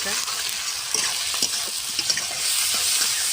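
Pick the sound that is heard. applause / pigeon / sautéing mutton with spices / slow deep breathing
sautéing mutton with spices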